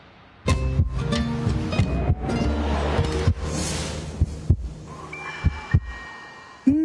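A heartbeat sound effect sets up a series of deep, sharp thumps, at first dense and layered over a rumbling bed, then spaced into separate beats toward the end.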